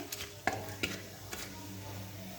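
Whole cumin seeds fry in hot oil as a tempering for an egg curry, a soft close sizzle punctuated by a few light scrapes and taps of stirring.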